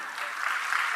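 An award ceremony audience in Madhya Pradesh applauds for an honoree, a brief dense burst of clapping that is steady and fairly loud.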